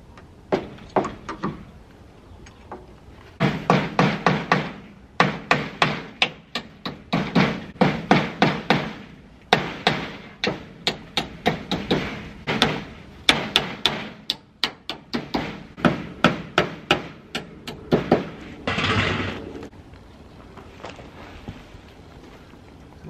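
Repeated hammer blows strike in quick bursts of sharp knocks, close and loud, pausing briefly between runs of hits.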